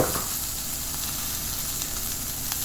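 Leafy celery tops dry-roasting on a hot tava without oil give a steady, close hiss with faint scattered crackles, continuous and even for the whole stretch, no voices.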